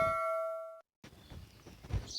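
A single bright bell-icon notification ding rings clearly and fades out, followed by a moment of silence and faint background noise.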